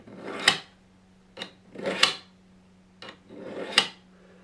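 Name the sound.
sharpening knife serrations with Hunter Honer sharpener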